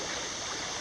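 Steady rushing creek water at an old mill crossing, a continuous broadband wash of flow over rock with no breaks, close and moderately loud.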